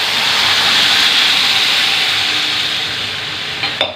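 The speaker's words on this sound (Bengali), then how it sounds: "এবার এই পর্যায়ে আমি এটাতে জল দিয়ে দেবো।" Water is poured into a pan of sweet jujube pickle over a high gas flame, giving a loud, steady rush of hiss and steam that fades slightly toward the end, with a small clatter at the close.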